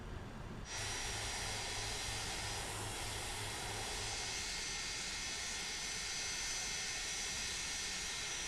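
MD-80 jet engines in a flight simulator game rise in after a brief quiet start, then hold a steady, loud, broadband roar with a faint high whine until the end.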